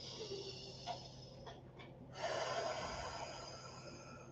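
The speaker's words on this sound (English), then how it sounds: "One more deepest breath in." One deep, audible breath drawn in through the nose, a slow rushing inhale that builds and swells near the microphone after a brief quieter sniff, with no speech.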